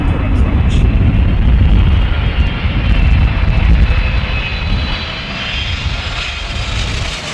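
Airliner landing in a crosswind at London Heathrow Airport, a loud continuous roar of jet engines that holds steady and slowly shifts, with a voice talking over it.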